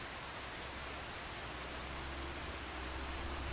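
Steady rain falls in Farming Simulator 25 on the Riverbend map, a dense, even hiss with a low rumble underneath, continuous and fairly quiet with no voices.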